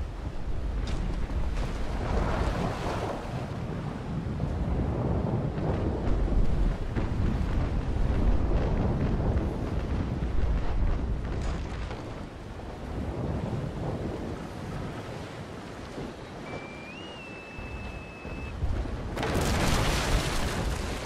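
Heavy naval cannon fire in a sailing-ship battle game, a continuous barrage of deep booms and rumbling blasts with wind-like noise, loud and close throughout, with a brief quieter stretch near the end before more firing.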